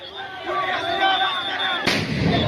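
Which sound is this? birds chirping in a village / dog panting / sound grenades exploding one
sound grenades exploding one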